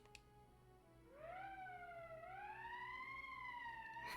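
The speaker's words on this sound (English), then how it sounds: "It's the police. That's the emergency siren." A police emergency siren sounds in the video game Valkyria Chronicles, a single wavering tone that swells in after a quiet moment and holds steadily, faint and alone.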